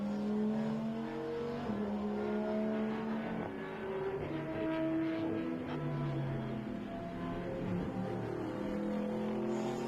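Mercedes race car with a 6.3-litre V8 engine on track at Oschersleben, a deep rumble and roar that rises and falls through repeated gear changes, moderately distant and with no one talking.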